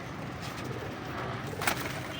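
Pigeons coo softly in a loft, a low continuous murmur of several birds with one brighter flutter or call near the end.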